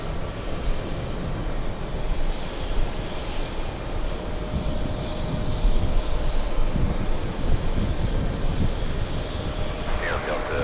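Airbus A321 jet arriving from Las Vegas at JFK airport, a loud, sustained engine roar with a broad rumble that swells slightly midway, heard from outside with faint background voices.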